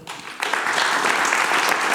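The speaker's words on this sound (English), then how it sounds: "Please, a round of applause for Joep Hijwegen." Audience applause greeting a street and commercial photographer arriving on stage at a photography event; a short lull, then steady, dense clapping from a sizable crowd that stays loud and continuous to the end.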